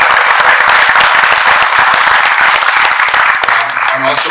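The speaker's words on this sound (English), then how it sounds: "I'd like a round of applause for all three of them." Loud, continuous crowd applause at the grand opening of Great Wolf Lodge in Perryville, Maryland, a dense clapping roar that fades near the end as a voice begins to speak.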